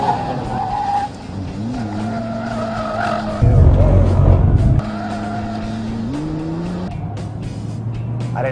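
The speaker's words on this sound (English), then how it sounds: "And I'm going to brake hard here." A race car's engine drops as it brakes hard, and tires screech in a loud, sustained skid for about a second before the engine picks up again.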